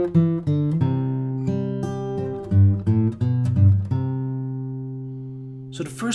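Fingerstyle acoustic guitar plays the second half of a song arrangement, with plucked chords and melody notes ringing clearly and alone, ending with a brief handling noise.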